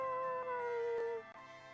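A dog howls in the video game Bravely Default 2, one long wavering tone that slides gently downward over about a second, clear and up front over steady game background music.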